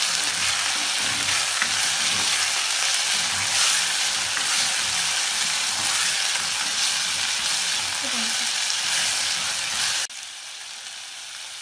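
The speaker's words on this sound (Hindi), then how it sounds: "जब प्याज हल्का ब्राउन हो जाए तो मसाला लगी चिकन डालकर तब तक फ्राई करें जब तक चिकन का रंग तब्दील नहीं हो जाता।" Marinated peri peri chicken frying with lightly browned onions gives a loud, steady sizzle with occasional stirring, then drops to a softer hiss near the end.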